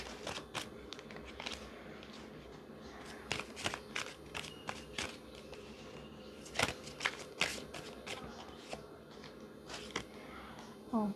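Tarot cards being shuffled make a string of sharp, close riffles and slaps with small gaps between them, quiet in places and sometimes louder, over soft room noise.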